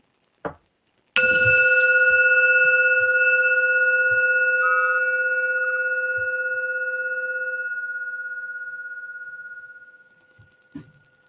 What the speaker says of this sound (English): I would like to ring the meditation singing bell and to clear space and energy.